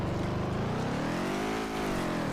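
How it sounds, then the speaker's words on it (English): A Dodge Viper GTS engine in a video game drones at steady, strained revs, its pitch sagging and then climbing slowly, sounding sluggish and bogged down throughout. "The engine sounds in this game."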